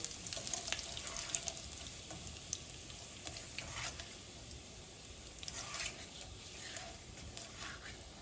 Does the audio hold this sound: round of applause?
no